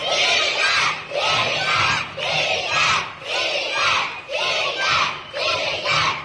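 A large crowd of school children shouts a short slogan in unison, repeating it in a steady rhythmic chant about once per second, loud and close.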